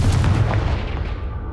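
A Confringo blasting spell explodes in Hogwarts Legacy, a single loud, close booming blast that fills the clip and tails off, with no talking over it.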